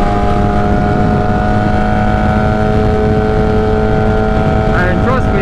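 A 2008 Suzuki GSX-R1000 with a straight-pipe exhaust runs very loud and close, a steady dense engine roar that holds level for the whole stretch with no pause.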